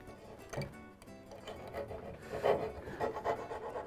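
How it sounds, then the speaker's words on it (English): A chisel scrapes and pares waste wood from a dovetail tail for a splayed stool, a few short, close, dry rubbing strokes with no talking. "I'll get the rest with a chisel"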